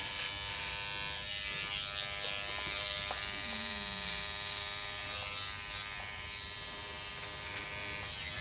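An electric beard clipper hums steadily and close for the whole stretch, a continuous buzzing motor drone with small shifts in pitch as it moves over a practice head.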